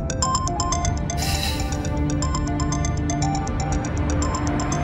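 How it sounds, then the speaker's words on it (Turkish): A mobile phone ringtone plays loud and close in a short repeating electronic melody of bright tones, continuing without pause. "Telefon yine sana galiba."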